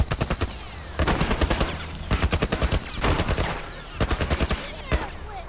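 Rapid bursts of gunfire in The Last of Us, sharp repeated cracks fired in quick clusters with short gaps between volleys, loud and close throughout.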